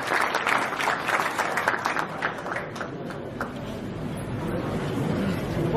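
Audience greeting a speaker, the director of an overseas block, as he comes on stage, with loud sustained applause at the start that thins into a steady crowd murmur.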